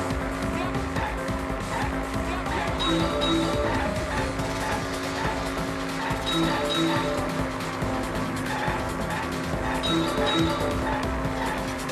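Racing cars in the video game Danganronpa V3 drone steadily through the whole stretch, with engine hum and repeated tire-squeal bursts at regular intervals under a continuous game soundtrack.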